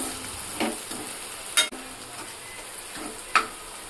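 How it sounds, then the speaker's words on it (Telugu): A spoon stirs ginger and turmeric frying in a pan, giving a soft steady sizzle broken by a few sharp scrapes and clinks of the utensil against the pan, with no talking. "పసుపు వేసాక ఒకసారి మంచిగా ఇలా కలుపుకోవాలి."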